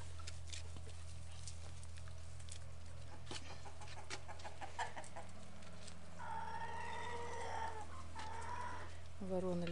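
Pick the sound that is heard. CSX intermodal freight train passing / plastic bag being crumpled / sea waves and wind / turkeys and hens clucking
turkeys and hens clucking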